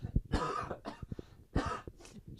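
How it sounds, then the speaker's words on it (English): A few rough, close coughs in quick succession, loud and with no talking. "Cough break!"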